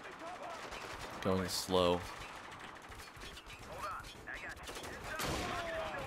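Bursts of automatic gunfire in the shooter game Spec Ops: The Line, two sharp rapid volleys close together near the start followed by scattered shots, with someone talking over the action.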